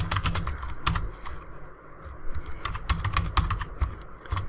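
Rapid typing on a computer keyboard while writing HTML: close, crisp clusters of key clicks in quick irregular bursts with brief pauses, and no voices.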